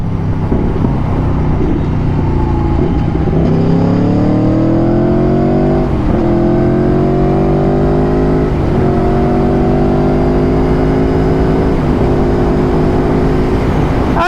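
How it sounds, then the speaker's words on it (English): Aprilia Tuono 1100 V4 four-cylinder motorcycle exhaust revving loud and close, with several rising sweeps of engine pitch that ease back between throttle blips; no talking. "that's a 4-cylinder bike for you, man. Love the exhaust note."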